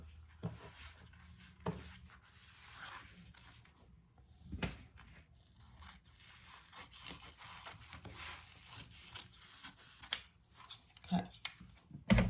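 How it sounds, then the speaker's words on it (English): Sharp scissors snipping through the fabric pocket of a handmade Serafina bag, a few crisp cuts and rustles close by, faint handling noise between them and a louder snip near the end. "I'm just going to cut it."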